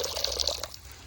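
Water poured from a container onto ice in a rabbit's waterer outdoors in winter, a short close splashing pour that trickles off and fades within a second.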